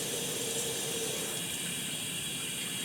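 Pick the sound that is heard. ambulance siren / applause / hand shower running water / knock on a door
hand shower running water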